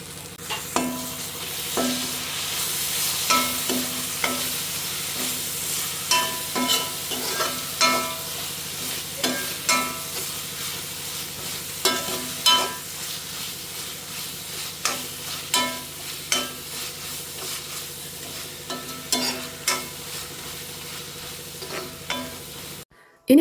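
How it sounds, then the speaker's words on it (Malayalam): Crushed ginger and garlic fry with softened onions in a pan for beef curry, a constant sizzle broken by a steady rhythm of spoon scrapes and stirring strokes. "ഇനി ഇതിലേക്ക് ഇഞ്ചിയും വെളുത്തുള്ളിയും ചതച്ച് വെച്ചത് ഇട്ട് കൊടുക്കാം"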